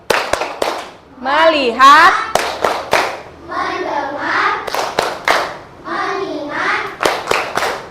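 Children in an Indonesian primary-school lesson perform a rhythmic focus-clap chant, sharp claps in quick bursts alternating with the class chanting words together, loud and close.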